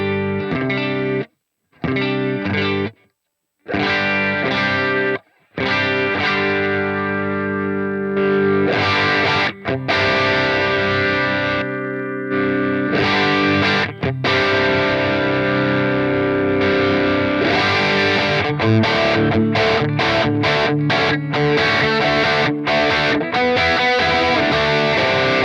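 Electric guitar through a Line 6 POD Go preset with every effect switched off, strummed and picked with a thick, driven tone. It starts with choppy bursts separated by short silences, then settles into a loud, steady passage with no talking.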